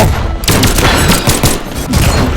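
Rapid gunfire in the Brawlhalla video game, a loud, dense burst of overlapping shots that stays close and continuous for a couple of seconds.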